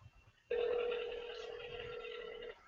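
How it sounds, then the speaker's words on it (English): An outgoing phone call rings back through a speaker, one steady continuous tone lasting about two seconds, fairly faint, over a quiet room. "we're gonna go ahead and call up the other guy"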